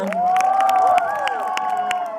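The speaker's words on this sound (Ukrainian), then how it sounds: "Оплески ще раз і ще раз нашим конкурсантам." An audience at a summer-camp Mister Camp show applauds the contestants, steady clapping mixed with cheers and excited children's shouts, with a voice calling out over the crowd.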